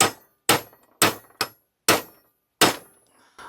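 A 19mm socket tapped to seat a driveshaft U-joint gives six sharp metallic clangs at uneven intervals, close and loud with quick decays and silence between strikes.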